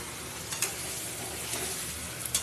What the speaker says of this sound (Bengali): ভালো করে নেড়ে চেড়ে পেঁয়াজ আর ইঁচড় রসুন সব একসাথে নাড়বো